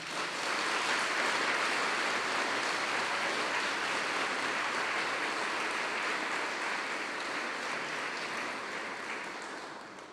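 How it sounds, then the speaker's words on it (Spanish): A church congregation in San Marcos, Nicaragua, applauds its parish priest with a long, steady roar of many hands clapping together, a thick continuous wash that stays loud throughout and fades only slightly at the end. "Pedimos un aplauso para él."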